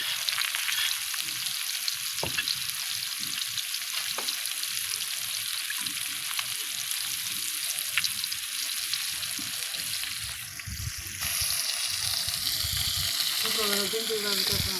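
Fish sizzles steadily in hot oil for a fish curry, a dense continuous crackle with occasional stirring scrapes throughout.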